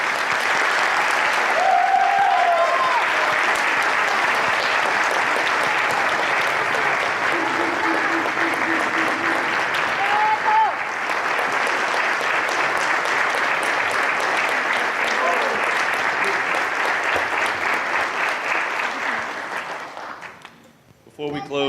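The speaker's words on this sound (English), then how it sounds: "Please join me in giving our graduates a round of applause." A high school academy graduation audience applauds its graduates, a sustained roar of clapping from a large crowd lasting about twenty seconds before fading out, with a few brief shouts and whistles rising over it.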